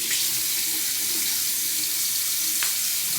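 Tap water runs steadily from a faucet into a sink as someone wets their face, a continuous close hiss with a faint splash near the end.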